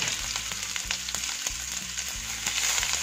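Onion and green chilies hit hot oil in a pan already holding toasted cumin, whole coriander seeds and asafoetida. They sizzle in a steady, bright, crackling wash with faint pops throughout, close up and with no talking.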